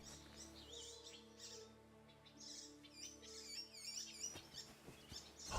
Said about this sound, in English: Aw, baby birds.